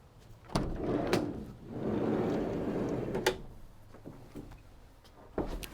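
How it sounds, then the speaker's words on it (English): Side loading door of a 2012 Ford Transit 2.2 TDCi 260 medium roof van, several sharp clunks and latch knocks joined by a longer sliding rumble as the door rolls along its track, close by, with no talking. "Oh, so we've got a side loading door."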